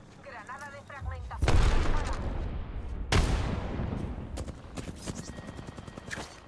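A frag grenade goes off in an Apex Legends arena match: two heavy booms land about a second and a half apart, each trailing into rumbling gunfire, with a short voice just before the first.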